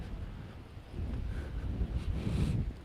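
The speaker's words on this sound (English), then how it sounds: "It's a little windy here" Outdoor wind rumbles and buffets against the microphone, a low, steady roar that gusts a little stronger toward the end, with no voices.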